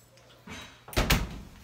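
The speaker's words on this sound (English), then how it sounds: "close up the door" A Speed Queen tumble dryer door is swung shut, with a light rustle and handling first, then a sharp, close double thud as it latches.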